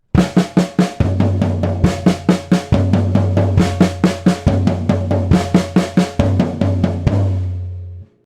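Drum exercise of sixteenth notes alternating four hits on a floor tom with four hits on a snare drum, played as a steady, loud, close rhythmic pattern with no talking.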